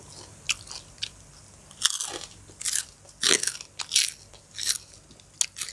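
Crunchy chewing and biting of spicy Lao/Thai pounded salad with grilled pork, close up, with bursts of crisp crunches at irregular intervals and no talking.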